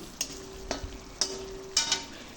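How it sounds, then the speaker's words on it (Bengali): Chopped tomato stirred into spice masala frying in oil for vegetarian ghugni, heard as a few distinct spatula scrapes and clinks over a low, steady sizzle, close and fairly quiet. "কেটে রাখা টমেটো টুকরোগুলোকে তেলের মধ্যে দিয়ে দিলাম মশলার মধ্যে দিয়ে ভালোভাবে মিশিয়ে নিচ্ছি"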